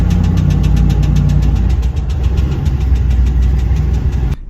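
Turbocharged GTO with two loose drive shaft bolts, heard from inside the cabin as a steady engine drone carrying a fast, regular knocking clatter, loud and continuous until it cuts off near the end.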